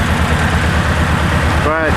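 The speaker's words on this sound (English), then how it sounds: "Engine's still running super quiet." A turbocharged Subaru Impreza, originally naturally aspirated and fitted with a large turbo, idles hot with oil spraying from it. It gives a steady, close, low mechanical hum with a soft pulsing rumble, continuous throughout.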